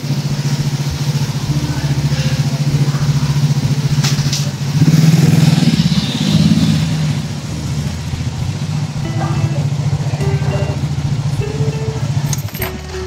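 A motorcycle idles nearby with a steady low engine drone that swells briefly in the middle, with faint jangling and handling noises around it.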